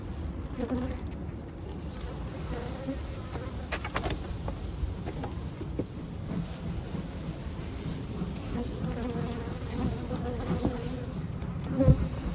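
A steady, close buzzing of many honey bees swarming around a hive, a low droning hum layered with occasional louder passes and rustling.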